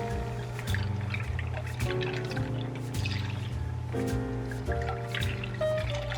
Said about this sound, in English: I'm going to add 1 cup of uncooked rice and 2 cups of water or broth